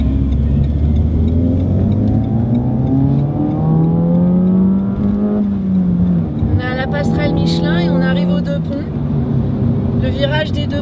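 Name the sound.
car driving on Linas-Montlhéry racing circuit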